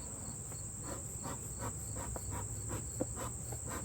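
Honey bees buzz steadily around an opened hive on a cloudy day while a smoker is in use, a continuous close hum with a gently pulsing texture and no talking.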